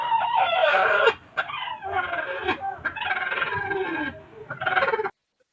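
A broody hen sitting on eggs gives a run of throaty, drawn-out clucks and squawks, close and fairly loud, in several bursts before falling silent.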